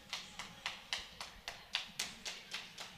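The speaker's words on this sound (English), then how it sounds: "Got the choppers and the clap going once again." Crowd at a youth bantam hockey championship game claps in a steady, evenly spaced rhythm, about a dozen sharp collective claps over a few seconds, moderately distant in an arena.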